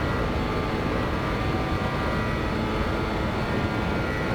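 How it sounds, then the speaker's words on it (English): The jet engines of a BAE 146 accelerate in a flight simulator: a loud, steady broadband roar with a faint high whine, continuous and unbroken throughout. "Aircraft accelerating nicely."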